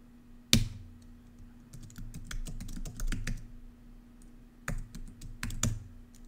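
A computer keyboard is typed on in short bursts, sharp key clicks and taps close up, with a couple of louder strikes and quiet pauses between runs, no talking.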